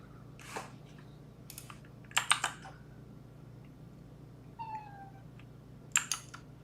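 A house cat gives a few short meows that end in a brief chirp, heard amid faint clicks and taps in a quiet room.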